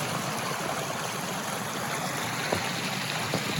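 A small waterfall spills over a mossy rock into a downhill stream beside a winter pond, making a steady, continuous rush of running water with no voices.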